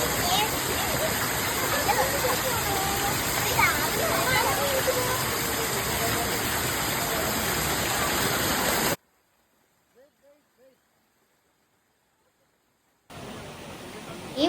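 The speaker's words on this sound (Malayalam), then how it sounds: "ഈ വെള്ളച്ചാട്ടത്തിന്റെ ഫുൾ വ്യൂ ഒന്ന് നോക്കിക്കേ." Water from a waterfall rushing steadily as loud broadband noise, cut by a few seconds of near silence with brief faint chirps, then the roar resumes; voices can be heard over the flow.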